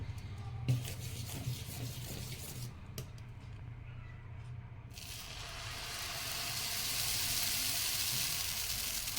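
Sponge dosa batter hits an oiled griddle, with some handling noise at first, then a broad, steady sizzle that swells and holds loud, close to the pan.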